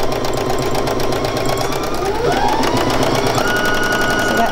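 A sewing machine rattles in a fast, even stitching rhythm as it sews flower petals onto dissolvable fabric, close and continuous, with a faint pitch shift midway.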